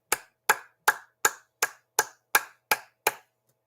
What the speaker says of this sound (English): Clap hands for Edo people.